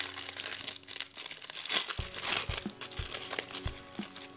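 Matte foil crinkles and rustles steadily as it is unwrapped from a parcel, a close, continuous crackling with a few dull bumps of handling underneath.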